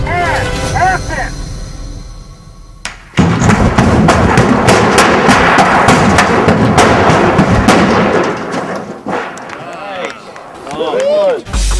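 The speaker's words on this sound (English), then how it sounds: "you see the explosion happening in the background" A pyrotechnic explosion set off on a film set erupts suddenly after a quiet start, a loud booming roar that rumbles and crackles for several seconds before fading, with voices around it.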